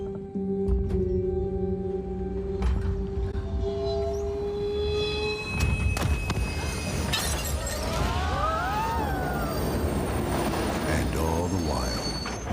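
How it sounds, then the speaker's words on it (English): A train rolls along the rails with a dense, steady rumble and clatter, sharp wheel squeals rising and falling over the noise toward the end. "on the train home"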